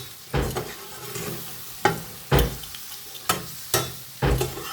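Pre-fried chicken tossed into a hot pan with chilli powder, sizzling steadily while a spoon stirs in rhythmic bursts, roughly five distinct scraping strokes close up.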